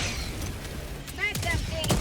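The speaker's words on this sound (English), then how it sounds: "Calling in orbital! orbital strike." Orbital strike explosions land in the video game Helldivers 2, a dense, rumbling barrage of booms and rapid blasts over continuous battle noise, loud and close throughout the short span.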